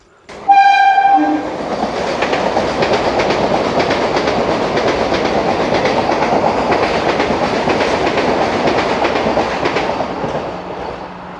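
A train horn blasts briefly, then a loud, steady rumble of rolling wagons carries on for several seconds before easing at the end, at a quiet rural station among open fields and forest.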